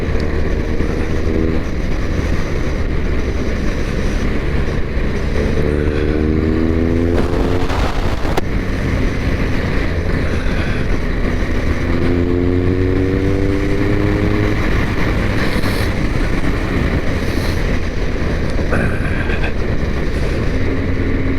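A red Ducati motorcycle revs nearby over a loud continuous engine drone, its pitch climbing in several short rising bursts through the gears.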